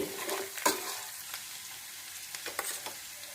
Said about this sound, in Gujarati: તીખારી બનાવવા માટે લીલું લસણ અને ડુંગળીનો વઘાર કરી લીધો છે